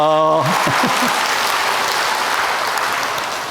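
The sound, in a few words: audience applause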